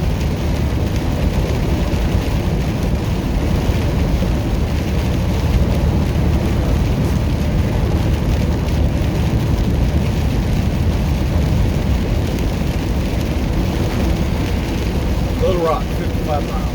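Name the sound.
heavy rain with thunder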